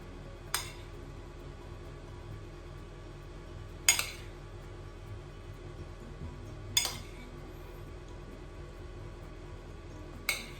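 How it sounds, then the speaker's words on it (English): Meat, potato and onion plate pie filling spooned into thin pastry, heard as four sharp, spaced clinks of a spoon against a dish over a steady low background hum. "We'll start to spoon in our pie filling."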